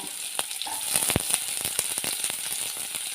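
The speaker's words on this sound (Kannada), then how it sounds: "ಈರುಳ್ಳಿನ ಚೆನ್ನಾಗಿ ಫ್ರೈ ಆಗಬೇಕು" Onions frying in hot oil with urad dal for a Karnataka veg dish, a steady close sizzle dotted with sharp pops and crackles throughout, no talking.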